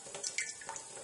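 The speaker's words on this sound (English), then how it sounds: "So with a little bit of running water, it can just help to get this to come off a little easier." Tap water running at a tepid dribble while rinsing shells off boiled eggs, a brief, quiet splashing and trickling close by.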